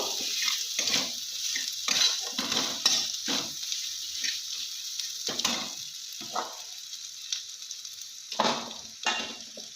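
Ground spices, including turmeric and chili powder, fry in a pan, a soft hiss broken by repeated scraping and clattering strokes of a spoon, close and fairly quiet.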